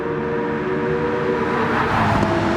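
Race cars at Spa in Gran Turismo 7 during a GT3 racing league event, engines droning loud and steady as one car overtakes another under heavy braking.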